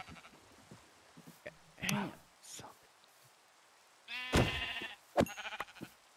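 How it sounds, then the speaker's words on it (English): White sheep in the video game Minecraft bleat in a few short, wavering calls, with a clear bleat near the end and another just after, heard at moderate distance against a quiet background. "I see some white sheep over here."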